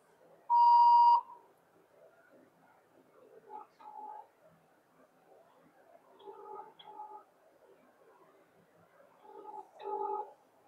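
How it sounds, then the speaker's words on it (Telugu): An outgoing phone call to a municipal chairperson begins with a loud electronic dial beep, then soft repeating ringback tones pulse faintly over several seconds. "ఫోన్ చేస్తే ఒకసారి ట్రై చేసి చూద్దాం"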